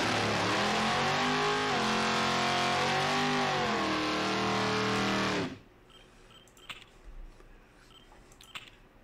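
Hot rod engine sound from the MechWarrior Online video game, a loud rising and falling rev with a few throttle swells that cuts off abruptly, leaving quiet background.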